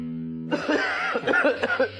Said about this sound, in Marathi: अरे तुम्हाला बराच खोकला झालाय